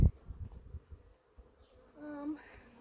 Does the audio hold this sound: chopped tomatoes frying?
no